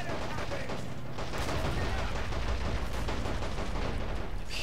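In a Men of War: Assault Squad 2 battle, a Churchill AVRE fires high-explosive rounds amid dense, continuous crackling gunfire and blasts, steady and loud throughout.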